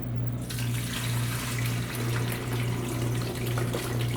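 Water runs steadily into a Silonn ice maker's reservoir, a continuous pouring wash with a low steady hum beneath, close and unbroken with no talking.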